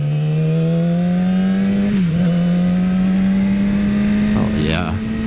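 2016 Yamaha YZF-R6 fitted with a K&N air filter, accelerating toward highway speed, its engine a loud, steady, close drone that rises slowly in pitch, with a brief dip and some wind buffeting.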